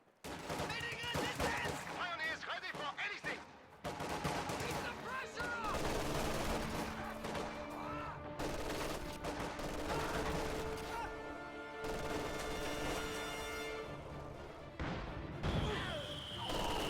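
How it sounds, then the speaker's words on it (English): Mortar fire and battle noise in a World War II real-time strategy game, with dense overlapping bursts of gunfire, explosions and crashes running nearly continuously at high loudness. "Mortar firing away at these guards."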